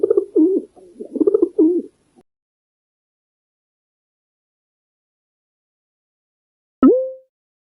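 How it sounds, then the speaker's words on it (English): A pigeon coos in a soft, throaty run of several low calls, then falls silent before one last short coo some seconds later, heard close and clear against silence. "Pigeon."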